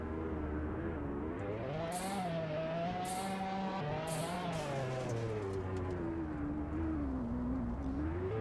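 A Lamborghini Aventador in the Roblox game Drive-Shaft hums with a steady, faint engine drone whose pitch rises and falls gently, broken by a few short bursts of noise.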